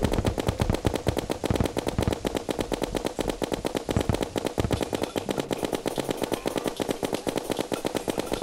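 Rapid, sustained automatic gunfire in the video game Terraria with a fast mechanical rhythm, loud and close throughout, with no voices.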